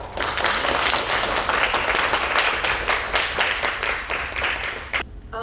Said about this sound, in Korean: Please welcome Ms. Zelika Leki Subasik with a warm round of applause.